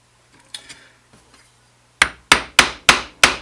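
A wooden mallet strikes a chisel while a mortise is chopped by hand. A few soft taps come first, then five loud, sharp, evenly spaced blows close by.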